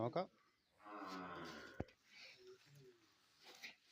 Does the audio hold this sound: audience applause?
no